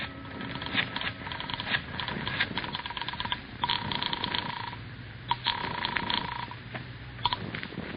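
Mechanical clicking and rattling of an old telephone being picked up and dialed in a 1950 radio drama, with creaks and a brief ringing tone, somewhat muffled.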